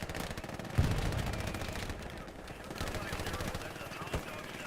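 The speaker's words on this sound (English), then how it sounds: "There's Domo with his machine gun set up on the wall." Machine gun fire in a war video game rattles in rapid, steady bursts, moderately distant, beneath a battlefield din with occasional heavier thumps.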